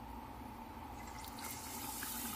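Water is poured into pumpkin fritter batter, a faint trickle and splash that grows into a brighter, hissing pour partway through, heard alone and quietly.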